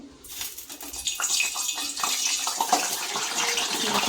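Steady hissing and crackling sizzle as medu vada batter fries in hot oil, with bright bubbling that rises after a quiet start and continues throughout.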